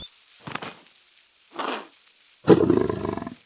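A male lion roars in the wild savanna: two short rough bursts followed by a louder, sustained roar with pulsing throaty grunts, fairly close and alone.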